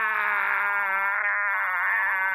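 A telephone rings steadily in the Arctic Cthulhu video game, a loud, bright ringing that continues unbroken for the whole moment with nothing else over it.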